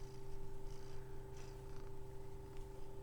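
A cat purrs close up in a steady, continuous rumble that lasts the whole stretch, with no talking over it.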